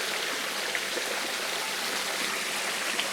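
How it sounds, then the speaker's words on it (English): Water cascades down a garden waterfall feature at a buffalo breeding center with a restaurant and pool, a steady, soft rushing and splashing that continues evenly without a break, with a few faint tinkling drops. "this kind of cascading waterfall structure is quite impressive in its own right"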